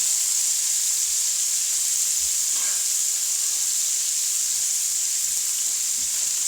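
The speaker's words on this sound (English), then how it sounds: "we'll just saute those for a couple minutes" Carrots and onions sauteing in a pan for coq au vin give a steady, fairly loud sizzling hiss that holds unbroken throughout, with no talk over it.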